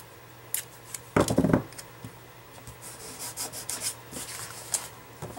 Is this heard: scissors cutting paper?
yes